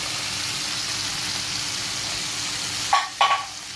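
Corned beef sizzling in a frying pan, a steady broadband hiss throughout, with a couple of sharper bursts of spatter and stirring near the end.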